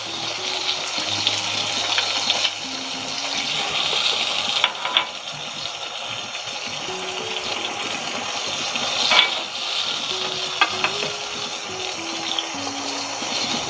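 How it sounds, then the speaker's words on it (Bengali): Spices added one at a time to a pan of beef curry with leech lime, sizzling steadily with a broad watery hiss throughout, a few sharp crackles standing out, no talking. "এখন একে একে আমি মশলাগুলো দিয়ে দিচ্ছি"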